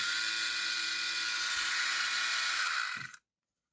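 A steady electric buzzing whine from a small RZTK LR 3 pet mat-removal clipper runs loud and even for about three seconds, then cuts off abruptly into silence.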